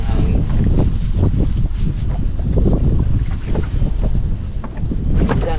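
Strong wind blows outdoors at a fish-drying spot, heavy gusty buffeting and rumbling against the microphone throughout, with no voices.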